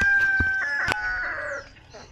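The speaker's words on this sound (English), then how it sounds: "See, there's that rooster." A nearby rooster gives a short, loud crow amid clucking fowl and a few sharp knocks, ending quickly in a quiet barnyard.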